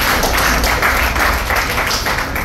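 An audience applauds at a corporate forum event, a dense steady wash of many hands clapping that fills the whole moment without pause.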